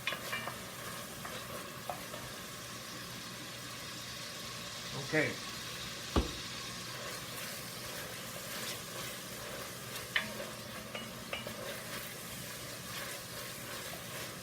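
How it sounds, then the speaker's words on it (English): Onions for a spaghetti meat sauce sauté in a pan, a soft, steady sizzle with occasional stirring scrapes and clinks, and a voice speaking briefly. "I'm going to saute them onions up really good"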